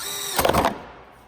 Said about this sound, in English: gonna put a hole in this plastic panel so that our gauge will sit right there